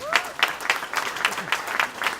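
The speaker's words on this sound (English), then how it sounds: "Let's give him a nice round of applause" Audience applause at a lecture in Boston, heard as a steady run of distinct, evenly spaced claps at moderate loudness, with a brief vocal sound at the very start.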